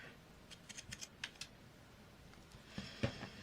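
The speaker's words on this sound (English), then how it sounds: "I'm going to pink and shear because this fabric is beautiful for pinking shearing" Pinking shears cut through fraying fabric scraps in a series of faint, crisp snips, a few spaced close together and then a louder cluster near the end.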